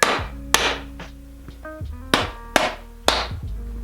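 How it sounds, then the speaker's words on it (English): Rubber mallet strikes on the damper bolts of a RockShox Yari bicycle fork, five sharp, loud blows at irregular intervals with ringing metallic tails, close up in a quiet workshop. "now we're just going to hit this with a rubber mallet to get it loose to break these bolts"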